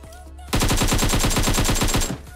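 Automatic rifle fire in the mobile battle royale PUBG Mobile, played in first-person mode: one loud, close burst of about sixteen rapid, evenly spaced shots lasting under two seconds, then a quick fade.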